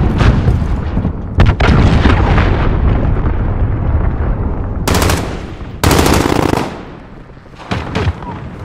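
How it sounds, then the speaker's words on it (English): A cruise missile strike in Call of Duty Modern Warfare sets off loud, booming explosions amid continuous battlefield gunfire, with two sharp, very loud blasts in the second half, followed by scattered shots. "Allied cruise missile away."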